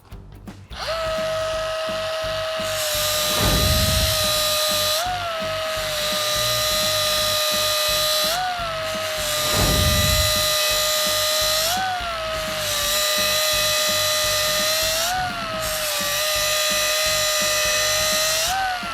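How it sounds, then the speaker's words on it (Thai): A cordless polisher with automatic torque drive whirs steadily, its motor pitch dipping and recovering about every three seconds as the speed self-adjusts under load, with low thumps of contact at the dips. "เดี๋ยวผมจะมาทดสอบระบบ ADT ให้ดูนะครับว่าเขาปรับรอบความเร็วมอเตอร ์เองหรือไม่นะครับ"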